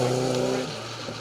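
A Mitsubishi Starion Turbo rally car on a forest stage of the Roger Albert Clark Rally, its engine holding a steady droning note before dropping away, fairly close, with no talk.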